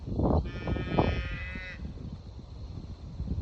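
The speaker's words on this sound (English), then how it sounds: "can hear a calf mooing a bit" A calf gives a drawn-out, bleating moo, fairly close, on a farm on the Darling Downs. Low outdoor noise and rustling surround it.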